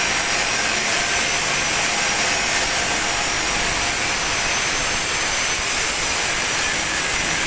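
Metal pipe pieces for a home gate are cut with a power tool, producing a loud, continuous, harsh high-pitched grinding hiss that runs unbroken at close range with no voices.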